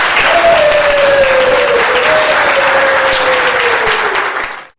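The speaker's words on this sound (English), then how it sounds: "Let's give them a big round of applause" Loud applause from an audience at a horseshoeing show, sustained and dense for several seconds before quickly fading out at the end.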